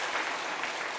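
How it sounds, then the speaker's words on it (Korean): A church congregation at a Sunday service claps in thanks for the choir, a soft, steady wash of many hands over a short stretch with no voices. "찬양대 감사의 박수 한번 하시죠"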